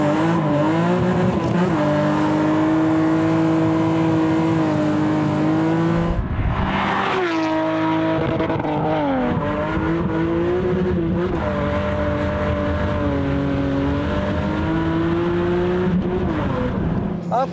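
A BMW M3 E36 revs and accelerates while driving on a closed road, its loud engine note climbing and falling through gear changes, with a short break in the middle and no speech.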